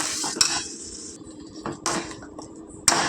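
Metal lid set onto a cooking pot of fish curry, a few sharp clanks and rattles spaced across a couple of seconds over faint sizzling, close and fairly loud, with no talking.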